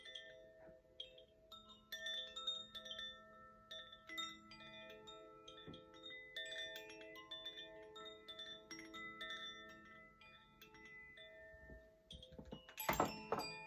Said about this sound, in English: that is the beautiful Gaia chimes